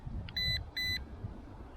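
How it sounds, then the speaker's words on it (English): A Ruko F11 Pro 2 GPS drone gives a double beep on starting recording: two short, clear electronic tones in quick succession over faint outdoor background. "Double beep for recording to confirm that."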